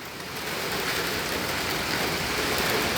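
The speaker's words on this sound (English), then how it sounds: "it's starting to rain" Rain beginning to fall outdoors, a broad, steady hiss of drops on surfaces that swells slightly at the start and then holds loud and even, with no talking.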